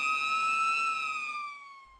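A vintage police car's siren, restored in the PSP workshops in Lisbon, sounds as one steady, loud, close wail that slowly falls in pitch and fades toward the end, with no voices.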